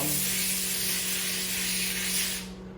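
A continuous close hiss of oil sprayed from a spray bottle that holds steady for over two seconds, then cuts off.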